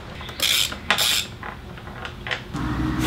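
An 8 mm Allen socket ratchet working a subframe bolt loose on a KLR650 motorcycle, giving several sharp metallic clicks and clanks in short bursts, close up.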